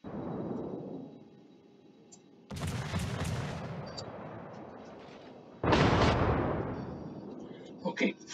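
Heavy naval guns boom in a World of Warships battle, two big thunderous salvos a few seconds apart, each rolling out into a long rumbling decay over low background noise.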